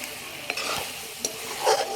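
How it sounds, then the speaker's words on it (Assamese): Muffled continuous sizzling of food frying in a lidded pan on full heat, with a few soft taps and a louder crackle toward the end. "ঢাকনি দি দি ভাজি আছোঁ।"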